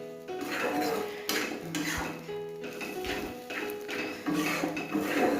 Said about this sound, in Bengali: এই দিয়ে ভালোভাবে নেড়েচেড়ে মশলাটার সঙ্গে গোগলিটাকে মিশিয়ে নেব।